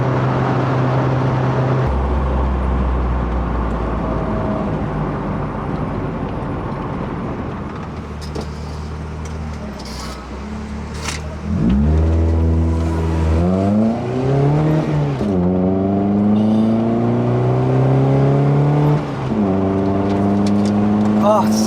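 A freshly washed car's exhaust note rumbles loud and close while driving, first a steady drone, then rising revs climbing through gears in repeated sweeps, with a voice talking briefly over the engine.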